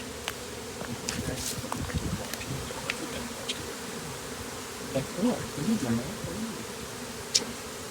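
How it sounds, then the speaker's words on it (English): Bees buzz continuously close by in a gazebo, a thick droning hum that rises and falls, with a person speaking briefly over it. "Now look at all these bees I need to do."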